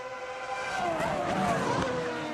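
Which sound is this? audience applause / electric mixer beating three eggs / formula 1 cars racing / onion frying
formula 1 cars racing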